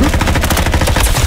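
Gunfire in the Roblox shooter Frontlines, a dense rapid stream of automatic shots with no break, loud and close throughout.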